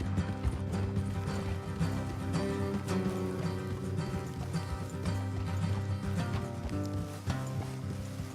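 Steady clip-clop of horses trotting in Red Dead Redemption 2 runs beneath a dense bed of music and rumbling game ambience, hooves faint and rhythmic throughout.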